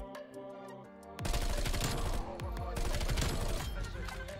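An SMG fires in Black Ops Cold War in rapid, continuous automatic bursts, loud and close, breaking in suddenly after a quieter opening with game sounds, with voice heard faintly under the shooting.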